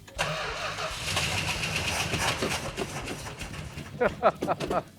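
Old Mopar car engine cranking and catching on the first try after fifteen years; a loud starter whir and rough mid-pitched engine turnover fill most of the clip, then bird-like chirps and brief voices near the end.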